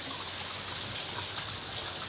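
Hot spring water runs in a continuous soft trickle outdoors, a faint steady stream with no voices.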